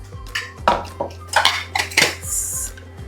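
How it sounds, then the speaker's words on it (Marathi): A pressure cooker being opened after five whistles, with close metallic clanks and clatter from the lid and pot followed by a short burst of hissing steam. "आता आपण कुकर उघडून बघूया"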